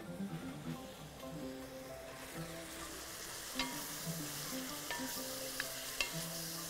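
Beef fillet sautés in a hot pan, giving a faint, steady sizzle and crackle with soft scraping and clicks from stirring.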